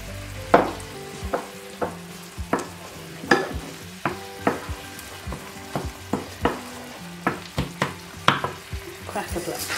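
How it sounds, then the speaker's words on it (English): Mushrooms simmer in cream with parsley and sage for creamed mushrooms with Kent cobnuts, a soft sizzle and bubble running underneath while a spoon knocks and scrapes the pan in a steady, repeated rhythm, close by with no talking. "So just let that bubble away a little bit more."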